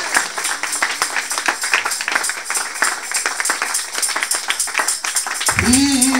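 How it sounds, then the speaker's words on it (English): A church congregation claps, a steady patter of many hands that swells toward the end as a voice rises over it. "Give a clap of faith to Jesus."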